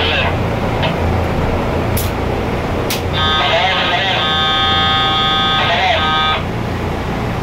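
A ventilation alarm buzzer sounds after the blowers are shut off at the breaker, a loud steady electronic tone lasting about three seconds over a constant mechanical hum, with a voice speaking nearby.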